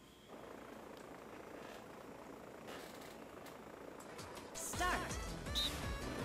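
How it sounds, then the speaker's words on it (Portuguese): A propeller airplane engine drones steadily in the Flight School minigame of Super Mario Party on the Switch, a continuous buzzing hum that rises near the end with added game chimes and effects. "Esse é aquele do avião maluco."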